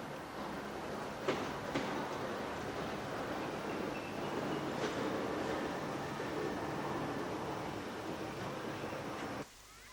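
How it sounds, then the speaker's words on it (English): A train pulls into Bournemouth station beneath a high canopy, its low steady rumble dotted with a few faint clanks before the sound cuts off near the end; no one speaks. "The train soon arrives in Bournemouth, a busy station covered by a high canopy."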